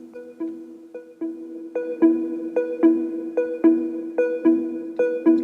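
Two channels of a Buchla 208 synthesizer play short percussive plucked notes in a regular rhythmic pattern, bright tones with a quick attack and short decay, heard on their own with no talk.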